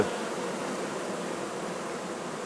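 Worker bees in a hive a few days after a queen replacement, their buzzing a dense, steady hum that holds evenly throughout with no voices.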